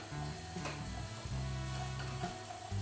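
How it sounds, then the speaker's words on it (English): Onions frying in a pan for a homemade steak and onion pie: a faint, steady sizzle under a low hum, with occasional soft stirring sounds and no speech. "And you want to fry these until they're softening."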